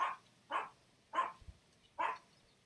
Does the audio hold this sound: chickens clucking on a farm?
no